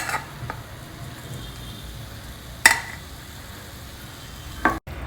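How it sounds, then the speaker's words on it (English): Cooked rice being gently stirred together with vegetables and masala in a pan for green pulao, with a low sizzle and soft scraping, plus a couple of metallic clinks of the spoon against the pan. "Mix everything well together with a gentle hand"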